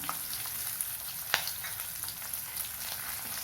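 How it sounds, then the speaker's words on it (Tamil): Onions sauté in a pan with rock salt, crackling in a constant moderate fry. A few sharper ticks and one clear clack of a utensil stand out, and there is no talk. "வெங்காயம் வதங்க உப்பு சேர்த்துக்கிறேன்"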